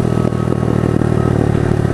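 A pit bike motorcycle is ridden through a desert wash, its small engine droning loud and close with a constant buzzing note and slight revving over about two seconds, no voices.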